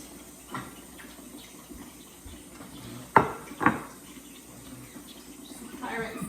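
A pie plate handled on a kitchen counter, giving a few clinks and knocks, with one sharper clatter midway and a second close behind, among quiet room noise and faint background sounds.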